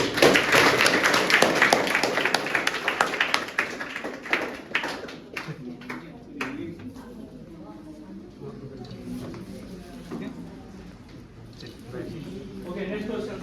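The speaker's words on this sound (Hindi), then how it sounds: "उनके लिए तालियां।" School audience at a road safety session claps for a student's right answer, a burst of many hands that fades after about six seconds into murmuring voices and the presenter talking.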